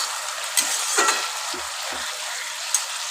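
Bottle gourd shukto vegetables sizzle and fry loudly in a pan just after the lid comes off, a close, continuous hiss broken by a few soft spoon-stirring clicks.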